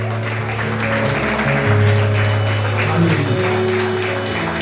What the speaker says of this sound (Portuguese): Com glória a Deus e salva de palmas para Jesus.